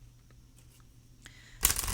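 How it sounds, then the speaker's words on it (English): A deck of healing cards from the Conspiracy Deck being cut and shuffled: near-silence, then a short, loud burst of riffling card noise close by near the end, with no talking. "3 cut shuffles, 2 off the top."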